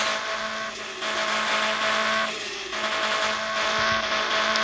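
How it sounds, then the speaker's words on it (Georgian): A car in a video game rolls into a garage, its engine droning steadily with brief dips and swells in pitch, loud and close, with no voices present. "აგერა მივაყენებ მანქანას."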